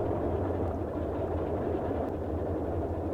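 A Boeing 247D piston engine idles and runs through a magneto check in a flight simulator game, giving a steady, even, continuous drone that fills the whole stretch.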